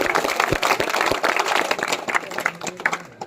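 A crowd at a temple breaks into lively applause, many hands clapping steadily and loudly before tapering slightly toward the end.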